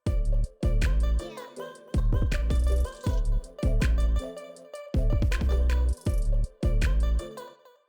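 Punchy electronic drop with heavy bass hits and chopped, pitched vocal stabs in a stuttering rhythm, loud and dense, pausing briefly between phrases.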